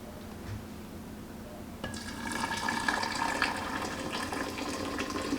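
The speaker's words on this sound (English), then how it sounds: "Okay, so we're gonna pour hot water in." Hot water is poured into a vessel to make sweet tea for kombucha. A quiet room gives way to a sudden gush of pouring liquid that keeps splashing and filling steadily at close range.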